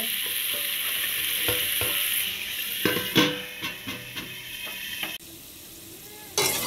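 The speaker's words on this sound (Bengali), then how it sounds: "আলুটা ভাজা হয়ে এসছে" Potatoes fry in hot oil in a home kitchen pan as chicken is being cooked, a steady close sizzle with occasional stirring scrapes and a short quieter stretch near the end.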